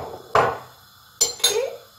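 A spoon stirs a thick soup with meatballs, round rice and black pepper in a pot, giving a few separate scraping clinks against the metal with quiet pauses between them.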